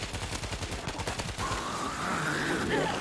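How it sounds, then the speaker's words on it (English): Mortar fire in the zombie shooter World War Z: a rapid burst of heavy impacts and crackling gunfire, then a sustained rumbling whine as the barrage continues, loud and dense with no clear talk. "No more mortars, please."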